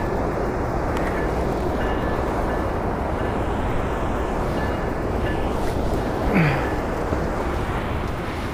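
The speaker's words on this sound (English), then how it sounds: "Oh, it's slow moving train." Continuous loud low rumble of a train rolling past slowly near a dam in Belleville, Ontario, steady and unbroken throughout, with a faint squeal near the end.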